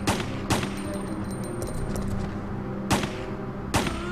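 Gunfire in the GameCube version of Resident Evil 3: four sharp, loud shots spaced irregularly, two early and two near the end, over a dense, continuous game soundscape.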